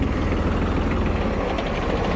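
A Japanese Mitsubishi GE-150 mini tractor fitted with a rotary tiller runs nearby, its small engine holding a steady, dense rumble and vibration without breaks, loud and close, with no talking.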